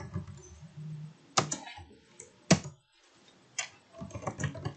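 Several sharp key taps on a computer keyboard while entering code, a few distinct clicks spaced apart with quieter clatter between, close and fairly faint, no talking.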